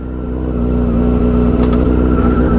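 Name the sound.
Yamaha R6 motorcycle engine starting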